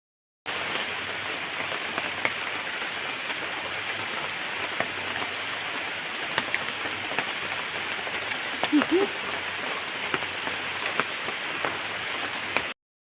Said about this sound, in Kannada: ಹನಿಲಿಕ್ಕೆ ಸ್ಟಾರ್ಟ್ ಆಯಿತು ಮಳೆ